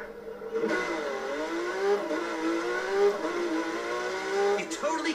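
A Porsche race car engine in The Crew 2 revs in wavering, rising and falling tones for several seconds, starting suddenly after a short quiet moment, with a voice talking over it.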